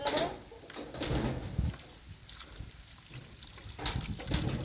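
Chopped chicken liver and gizzard are washed in water, with splashing and trickling in uneven bursts and some handling noise close by, and faint voices in the background.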